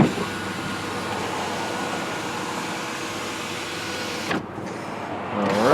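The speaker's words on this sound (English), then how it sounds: "so there's our sunroof, all the way open" Power sunroof on a 2006 Buick Lucerne CXL sedan sliding open with a steady electric motor whir, ending in a brief thunk as it stops, followed by a quieter hum.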